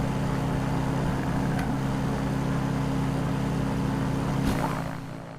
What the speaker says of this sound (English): I want to try another flyby that I haven't tried before.